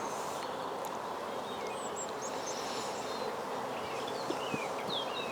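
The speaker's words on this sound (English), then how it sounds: "The nice calm bees." Honey bees hum in a dense, steady swarm at close range while a National 14x12 hive is opened for inspection, with faint bird chirps high above the buzz. No talking.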